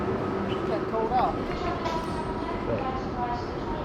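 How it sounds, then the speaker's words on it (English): An empty moving train rumbles steadily from inside the carriage, a low even roar with faint rattles, and a voice talks over it. "So this is quite an empty train"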